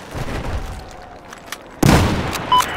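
Battlefield 4 combat: scattered distant gunshots crackle before a grenade explodes in a sudden loud boom, its heavy rumble lingering while another sharp shot rings out near the end.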